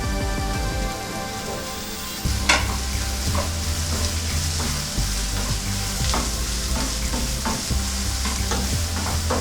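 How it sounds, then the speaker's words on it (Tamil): Carrots and beans stir-fried in a pan for chicken fried rice, a loud continuous sizzle with scraping stirs and clacks of a utensil throughout, no voices. "இப்போ கேரட்டு பீன்ஸு சேர்த்துக்கிறேன்."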